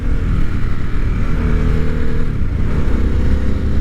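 A Harley-Davidson Sportster S motorcycle engine accelerating, a loud, close, steady low rumble that holds throughout without any voices.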